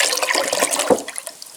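Unpasteurised cow's milk pours from a container into a pot in a short gushing, splashing stream with a glugging dip midway, close and fairly loud.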